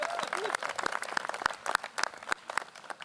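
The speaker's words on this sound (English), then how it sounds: "Can we just have a round of applause for the weather?" A crowd at a university presidential inauguration at Salisbury University gives a light, scattered round of claps outdoors in fine weather; individual sharp hand claps stand out, fairly close, in an uneven patter.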